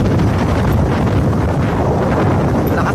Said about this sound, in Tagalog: Lakas ng hangin mga kabady, grabe.